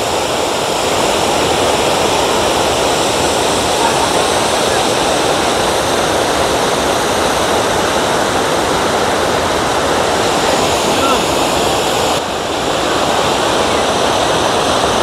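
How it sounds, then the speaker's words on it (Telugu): Dhuandhar Falls at Bhedaghat near Jabalpur thunders with a dense, continuous roar of falling water. The sound is loud and unbroken throughout, heard from a viewpoint reached by ropeway. "వాటర్ ఫాల్స్ చూడండి, నైగరా వాటర్ ఫాల్స్ లాగే ఉన్నాయి"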